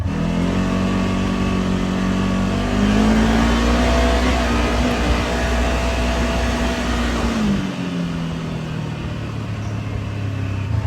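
A Polaris RZR XP1000 side-by-side engine runs steadily in two-wheel drive, a loud close drone that rises slightly in pitch midway and then drops back to idle, with no talking.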